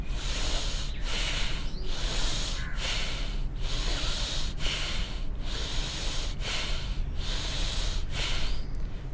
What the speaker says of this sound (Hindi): उसमें 2 सेकंड में सांस भरना है और 2 सेकंड में सांस बाहर छोड़ना है